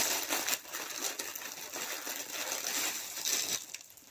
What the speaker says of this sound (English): Sorry for the rustling.